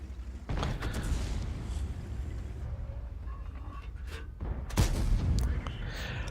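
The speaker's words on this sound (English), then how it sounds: "I hit his roof, which should be weak armor, but I ricocheted." Tank cannon fire in World of Tanks, a shell glancing off the roof armor of a Type 5 Heavy: a loud boom near the start, a quieter metallic clank, then another heavy close shot with ringing decay.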